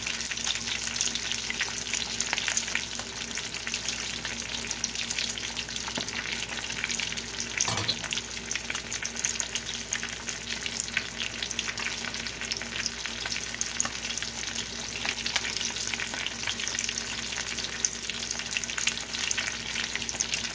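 Fish fries in hot oil with a constant crackling sizzle and popping splatters, steady and close throughout, with a brief clatter partway through.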